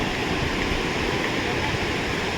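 Fast, swollen river in the Chamoli Garhwal hills of Uttarakhand near Narayan Bagar, rushing over stones in a loud, unbroken roar of churning water that fills the whole moment with no breaks.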